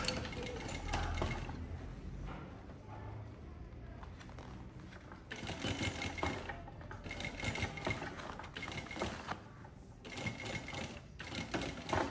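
A domestic sewing machine stitches a fabric seam in close, steady mechanical whirring bursts with brief pauses between runs of stitching, and no talking over it.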